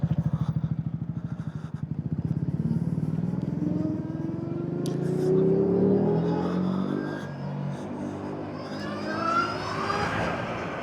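A motorcycle accelerates from a rapid, throbbing idle into a rising engine whine that climbs steadily through the revs, loud and close.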